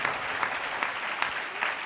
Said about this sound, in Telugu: చప్పట్లు కొట్టి ప్రభుని కనపరచండి